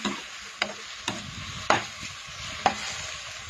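Mushrooms with holy basil, chili and oyster sauce are stir-fried in a pan, a soft sizzle running throughout with four or five sharp utensil scrapes and clacks at uneven intervals.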